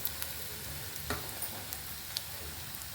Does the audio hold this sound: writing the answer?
no